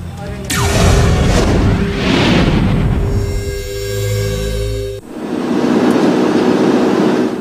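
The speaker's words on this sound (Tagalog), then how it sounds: "nang makuna ng aming news team ang pagsabog na ito sa Mamasapano, Maguindanao" An IED blast hitting a military convoy on a highway in Maguindanao, a loud booming roar with rumbling and debris noise that fades and then surges again, with voices heard through the din.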